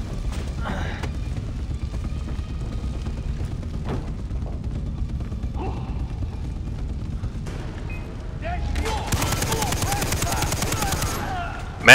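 Gunfire from a weapon in the video game Far Cry 3: scattered sharp shots early on, then a dense rapid burst toward the end, with game ambience underneath.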